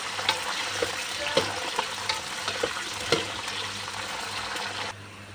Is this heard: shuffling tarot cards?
no